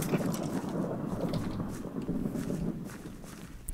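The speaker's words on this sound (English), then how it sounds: "Ooh, I got some lightning." A low rumbling roll of thunder from a lightning strike in the game Minecraft, a steady dull boom with a rain-like hiss, filling the whole stretch without speech.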